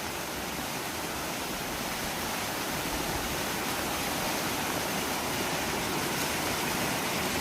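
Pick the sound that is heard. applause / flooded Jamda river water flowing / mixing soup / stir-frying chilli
flooded Jamda river water flowing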